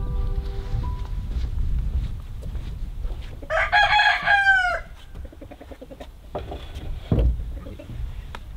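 Roosters crow on a farm, one loud nearby cock-a-doodle-doo rising in the middle, with fainter crows, clucking and background noise around it.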